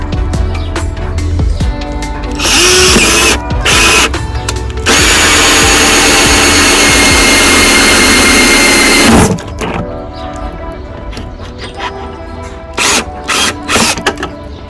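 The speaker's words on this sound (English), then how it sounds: "I don't know how loud this drill is going to come up on the camera" A power drill whirs loudly in several bursts, the longest lasting several seconds, close by with short pauses between runs.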